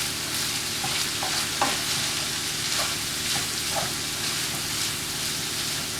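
A spiced taco mixture fries in a pan for a low-carb omelette wrap, producing a loud, even crackling sizzle with light stirring scrapes, close and continuous with no voices.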